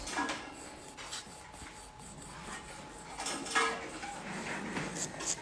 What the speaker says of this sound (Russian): И вот здесь сглаживаем, раскручивая пилочку, сглаживаем к росту.